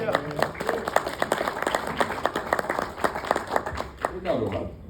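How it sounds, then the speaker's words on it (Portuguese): An audience at a Bible school lecture breaks into applause, scattered sharp claps building into a loose crowd clapping, with a voice speaking over it near the end. "Dá para aplaudir o Senhor por isso?"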